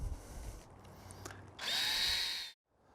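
Power drill drives Phillips screws while a Bestop Trektop NX soft top goes onto a Jeep JK Unlimited, a quiet buzz building to a loud whine for about a second before cutting off sharply.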